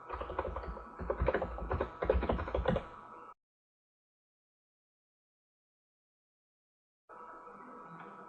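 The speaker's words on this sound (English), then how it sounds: "Down at the bottom, just type in the URL." Typing on a computer keyboard while entering a web address: a dense burst of quick key taps for about three seconds, then silence, then a steadier stretch of tapping near the end.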